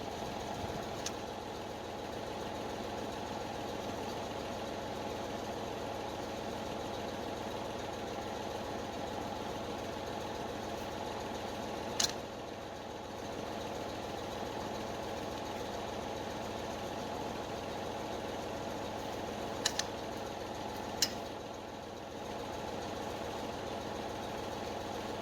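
A tractor engine idles steadily and continuously at close range, a low even rumble that holds throughout with a few brief faint clicks or knocks over it and no speech.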